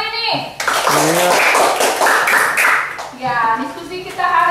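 A group of children clap their hands together in a classroom during a Christian religious education lesson, a burst of dense applause lasting a few seconds, with a teacher's voice speaking before and after.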